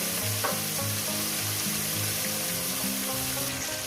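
Pieces of rohu fish fry in a pan while being flipped, giving a loud, continuous oily sizzle up close with occasional spatula clinks and scrapes, and no voices.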